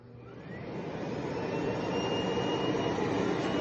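Miele Blizzard CX1 bagless canister vacuum cleaner switching on and spinning up to a steady, even whooshing drone with a faint rising whine, running alone with no talk.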